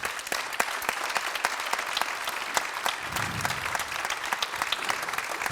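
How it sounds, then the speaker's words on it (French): An audience at a closing speech applauds loudly with dense, sustained clapping and sharp individual claps standing out throughout. "C'est Sarah et Céline que je vous demande d'applaudir très fort."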